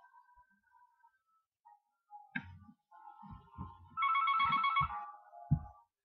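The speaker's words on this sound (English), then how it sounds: "The phone rings." A telephone rings in a quiet indoor room during an amateur acting skit, a short burst of electronic trilling preceded by a few soft knocks and thumps, fairly faint overall.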